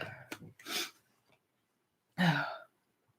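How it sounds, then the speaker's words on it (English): A few short breathy bursts are followed after a pause by one sharp, forceful sneeze, close up. "I am going to sneeze."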